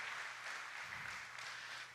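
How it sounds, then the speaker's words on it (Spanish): A church congregation applauds together in a steady, dense wash of clapping that holds evenly throughout and stays moderately loud. "¿Por qué no le damos un aplauso al Señor por la vida en el Espíritu"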